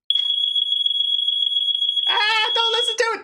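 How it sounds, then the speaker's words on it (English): A smoke alarm emits a continuous piercing high-pitched tone, loud and close, and a voice then speaks over it toward the end. "Is it coming from the fire alarm or is it coming from my phone?"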